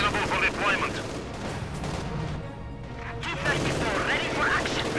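Battle noise in a Company of Heroes 2 1v1 match, with anti-tank guns and rifle grenades firing, as dense overlapping gunfire and blasts that briefly thin out midway before swelling again.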